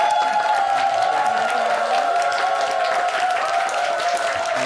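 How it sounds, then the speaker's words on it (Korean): Studio audience applause greets a guest arriving on a Korean morning talk show, a dense, steady roar of clapping that fills the whole stretch at full volume with no talk over it. "박수로 환영해 주시죠."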